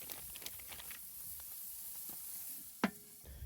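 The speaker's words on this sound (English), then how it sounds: "Oh, you hear that sizzle?" A steak sizzles in a pan on a camp stove during truck camping near Moab, Utah, with a soft, steady frying hiss. Light stirring scrapes sound under it, and one sharp clack comes near the end.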